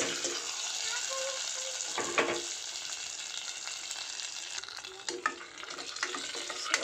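Cumin, mustard seeds, dried red chillies and curry leaves crackling in hot oil for a dal tempering, a loud continuous sizzle with stirring scrapes and a few sharp pops near the end.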